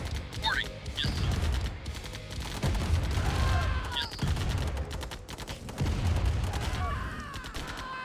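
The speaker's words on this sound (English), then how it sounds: "The tank's gonna kick the shit out of it." A tank battle in the Command & Conquer Remastered strategy game, with repeated booming cannon shots and rattling gunfire in bursts, loud and dense, while a person talks over the action.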